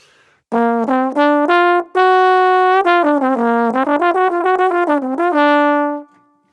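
A bright melodic instrument plays a quick run through a pentatonic scale with a flattened sixth, some notes held and others rapid, ending on a sustained tone.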